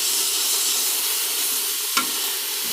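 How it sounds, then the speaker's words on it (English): Greens with onions turned in oil at the bottom of a pan, a steady close sizzle with soft stirring scrapes and one sharp clink of the utensil partway through. "you just turn your greens, turn them, make sure you get all that flavor in there"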